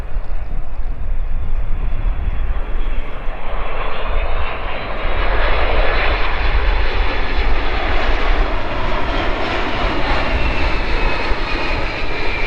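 Boeing 767 freighter on a low approach test flight, a loud, close jet roar that swells and holds steady as the aircraft passes, with a rising engine whine.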